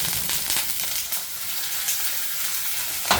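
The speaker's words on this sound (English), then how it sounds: "So now my onions, I want to add a little bit of vinegar to that." Onions and garlic frying in a pan with vinegar added, a steady, close hiss of sizzling with a few stirring scrapes and no talking.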